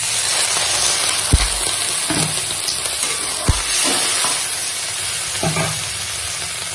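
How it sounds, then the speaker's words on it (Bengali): Vegetables fry in cumin paste in a pan, giving a steady, close sizzle with three dull stirring knocks against the pan spaced a couple of seconds apart. "এখন জিরে বাটার সঙ্গে একদম সুন্দর করে সবজিগুলো সব কষিয়ে নিয়েছি"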